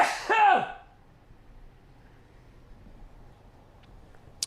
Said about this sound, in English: I know there's another sneeze in there